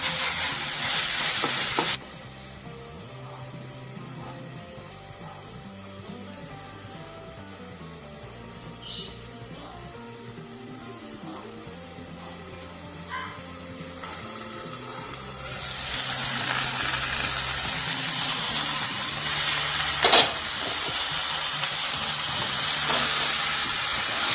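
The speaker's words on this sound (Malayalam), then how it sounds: "ഈ തക്കാളി ഒന്ന് കുക്കായി വരുന്നവരെ നമുക്കൊന്ന് അടച്ചിട്ടെടുക്കാം." Tomatoes frying and sizzling in a covered pan, a steady close hiss with faint stirring clatter that briefly dips and then returns louder toward the end.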